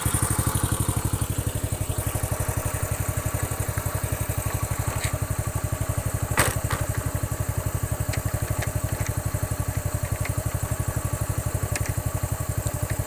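A Honda Astrea Grand motorcycle engine idles and runs close by during a test ride after repair, with a rapid, even mechanical putter and a few sharp clicks.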